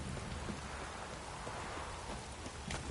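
Steady rain falling in The Witcher 3: Wild Hunt, a dense, even hiss of drops on surfaces that holds unbroken and close throughout, with no voices.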